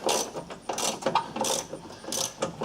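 A ratchet fitted with a 10 mm socket works a bolt loose on a Ford Ranger during A/C component removal, giving repeated bursts of clicking in an even back-and-forth rhythm, close and clear.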